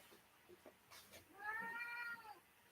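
A cat meows once, a drawn-out, rising and falling cry, fairly close, after a few soft background knocks.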